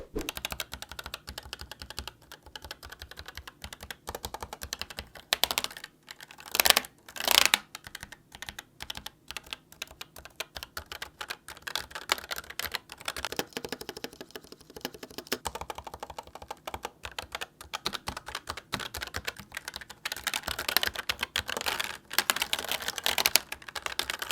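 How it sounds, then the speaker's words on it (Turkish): Rapid clacking of a mechanical keyboard with red switches, an ASUS ROG Strix Scope RX TKL Wireless Deluxe, being typed on, steady and close, with brief bursts of faster keystrokes and no voices. "Şimdi gelin bu switchlerin ses performansına bakalım."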